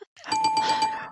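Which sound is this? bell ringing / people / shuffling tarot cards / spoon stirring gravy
bell ringing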